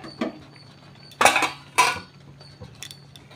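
A metal lid set onto a cooking pot of fish curry with pui greens, pumpkin and green banana: a light tap, then two close, clattering metallic clanks in quick succession, with faint kitchen clinks afterward.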